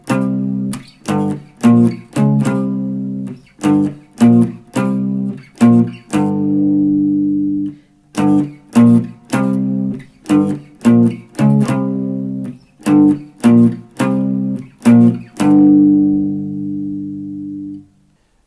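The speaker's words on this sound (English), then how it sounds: "So the example that we're going to use today is Smoke on the Water." Guitar power chords play the Smoke on the Water riff, with repeated short chord stabs in a rhythmic pattern and a few longer held chords. The guitar is clear and prominent and no one speaks.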